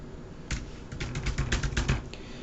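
A short burst of quick clicks from typing on a computer keyboard, moderately close over a faint background hum.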